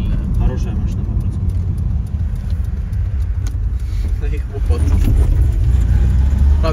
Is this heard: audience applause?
no